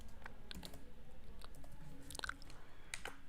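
Typing on a computer keyboard, faint irregular clicks and taps scattered across a few seconds, close and quiet with no voice.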